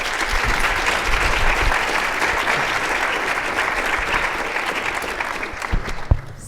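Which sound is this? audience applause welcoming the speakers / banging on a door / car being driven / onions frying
audience applause welcoming the speakers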